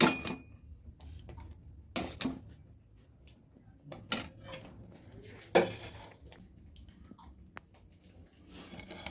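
Faint scraping and a few sharp clinks of a spoon pressing cooked tomato pulp through a metal sieve for homemade tomato sauce, heard close in a quiet kitchen with no talking.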